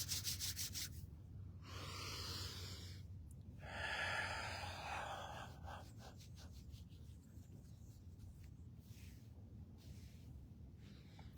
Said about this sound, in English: We rub the ears.